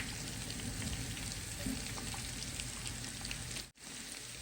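Vegetables fry in a pan with green chili and white pepper powder, giving a dense, continuous crackling sizzle close by, with a brief dropout near the end and no talk.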